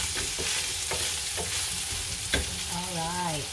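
SPAM hash frying in a pan with a steady close sizzle, broken by several sharp stirring scrapes and clacks against the pan, and a brief tonal whine near the end.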